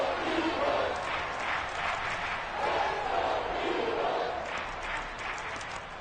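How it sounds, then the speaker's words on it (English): A crowd shouts and roars in waves at a football game in Madden 23, moderately loud and continuous, with a commentator talking over it. "Plenty of shouts from this crowd as they watch the replay"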